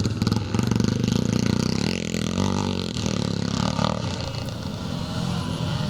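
Several 1990 Kawasaki KX250 Evolution motocross bikes race over a bumpy, potholed track, their two-stroke engines revving and droning loudly and continuously at mid distance.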